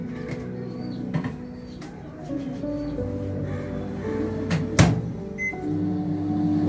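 A Samsung microwave oven runs through a chicken haleem recipe, its steady low hum continuing with a few faint clicks and a short sharp knock partway through, no talking.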